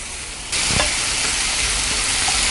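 Chopped capsicum and tomato sizzle loudly in a hot pan while being stirred for garlic chilli Maggi noodles, the frying hiss jumping up sharply early on and staying steady to the end.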